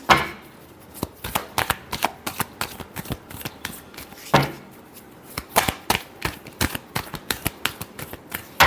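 A deck of tarot cards is shuffled close by in crisp, rapid riffles and slaps, a quick irregular patter of sharp card snaps that continues throughout with a few louder flicks.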